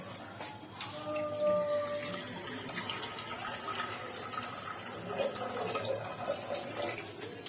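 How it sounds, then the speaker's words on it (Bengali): Hot water pouring into a pressure cooker in a home kitchen, a steady splashing, filling stream that runs throughout at moderate loudness. "জল গরমটা কুকারের মধ্যে ঢেলে দেবো"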